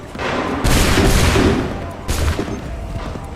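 A musket volley crashes out in Assassin's Creed III, two loud booming rounds of massed gunfire about a second and a half apart, each rumbling off into the distance.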